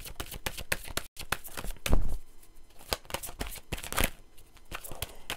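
Psychic Heart Tarot cards being shuffled in quick, close riffling bursts with soft slaps and flutters, a brief gap near the start and a louder flurry midway.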